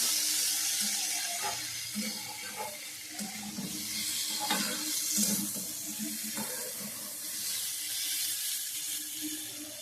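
Gravy poured into frying vegetables for a Bengali fish curry (macher jhol) gives a steady, close wet sizzle and bubbling hiss, with soft stirring clinks and no voices.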